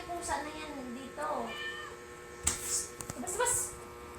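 A house cat meows several times in short, rising and falling cries, fairly close, while people talk in the background.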